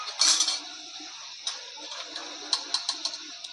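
A spoon taps and scrapes against a cooking pan as spice masala is added while making harkol vegetable, giving a loud clink at first and then a few lighter metallic ticks and clatters, close by.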